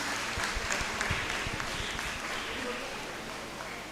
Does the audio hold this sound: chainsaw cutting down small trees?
no